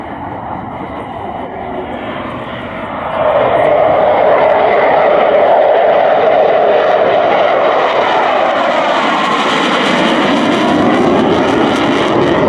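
A Czech Saab Gripen jet taxis out at a RIAT air show, its engine roar close and loud, swelling sharply after a few seconds into a sustained whine.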